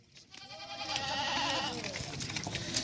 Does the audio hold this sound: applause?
no